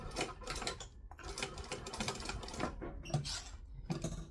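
Domestic sewing machine stitching fabric for a kangaroo soft toy, a close, steady run of rapid mechanical clatter with brief pauses between bursts.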